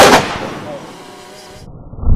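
A gunshot fired into a row of stacked iPhones during a bulletproof test cracks loud and sharp at the very start, then rings into a fading tail before a brief clatter at the end.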